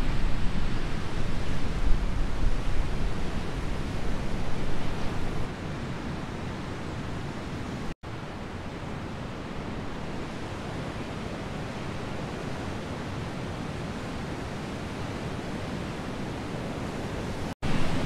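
Heavy ocean surf roaring onto Gibson Steps beach, a dramatic Victorian beach with sheer cliffs and a waterfall; a steady, dense, thundering wash that stays loud throughout with no voices.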